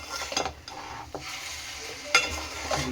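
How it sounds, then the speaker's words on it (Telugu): Chicken pieces being stirred into a pot of Raju gari kodi pulao with coriander, giving soft scraping and clinking strokes over a faint sizzle, with a sharp utensil knock near the end. "ఈ చికెన్ మొత్తాన్ని ఇందులో వేసేస్తున్నాను సో ఇప్పుడు దీన్ని బాగా కలుపుకోవాలి"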